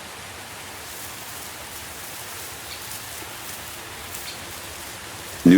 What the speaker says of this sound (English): Each heavy rain falls, softening the red dust that has covered the steppe for many months of dryness.